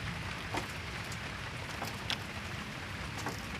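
Heavy rain pours down steadily at a flooded fishing spot, a close constant hiss of drops on surfaces with a few louder spatters.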